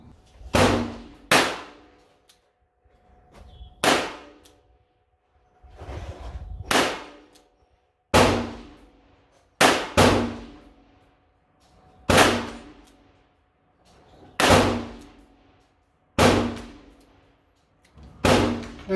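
Twelve sharp, loud reports from a Smith & Wesson K Frame .38 Special revolver fired single action, spaced a second or two apart, each a hard crack with a short decaying tail.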